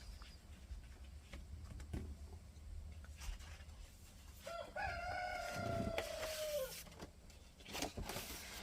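A rooster crows once, a drawn-out call heard at a moderate distance over faint background noise and occasional clicks.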